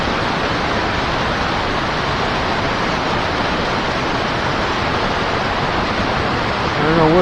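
River current on the Fox River rushes in a steady, broadband wash that stays constant and close throughout, with no talk heard.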